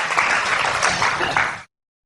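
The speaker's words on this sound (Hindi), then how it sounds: "प्रभु के लिए जोर से ताली बजाए" A church congregation applauding loudly for the Lord during a sermon, a dense, steady burst of many hands clapping that cuts off abruptly after about a second and a half.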